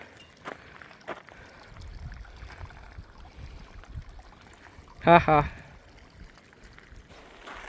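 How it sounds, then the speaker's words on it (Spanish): Glacier meltwater stream in the Juncal area of the Chilean cordillera runs steadily as a soft continuous wash beneath a voice, with a brief louder splash or laugh midway. "Más agüita. Mira cómo corre desde acá."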